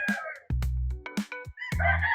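A Sweater gamefowl rooster crows on a farm, close and loud, with a few sharp clucks before the long cock-a-doodle call and more crowing after it.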